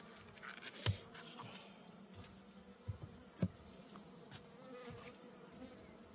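Honey bees buzz around an opened Layens hive, a steady close hum with sharp clicks and taps from handling throughout.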